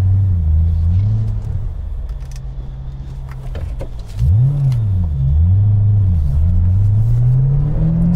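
A 2008 Ford Mustang GT500 engine rumbles low and steady while driving, rising and falling as it revs through first gear and then climbing smoothly, close and fairly loud with no talk.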